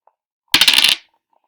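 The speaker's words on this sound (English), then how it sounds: "Okay, let's take the dice. Oh, once again. Shake it up a little bit." A pair of dice shaken and rolled during a children's music rhythm lesson makes a single quick clattering rattle lasting about half a second, close and loud, alone in near silence.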